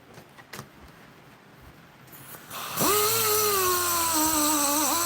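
A rotary polisher starts up partway through and runs on a surface with a loud, steady whine that dips slightly as it bears down, after a quiet stretch of small handling noises.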